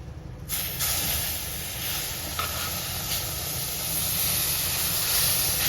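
Hot saffron-infused boiled milk hits hot semolina sheera in a pan, setting off a sudden loud hiss that holds steady as a continuous close rush of steam and bubbling, with no voices.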